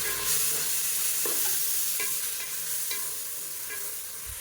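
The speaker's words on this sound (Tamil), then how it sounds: "இப்போ வந்து நூற்றம்பது கிராம் அளவுக்கு தக்காளி இதையும் சேர்த்துக்கலாம்" Tomatoes sizzle in hot oil in a pan while being stirred for mutton biryani, a steady close frying hiss broken by a few scraping and clinking strokes of the spoon, with no talking.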